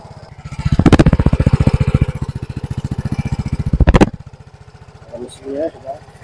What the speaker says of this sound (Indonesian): Ini adalah bunyi suara knalpotnya dalam keadaan standar.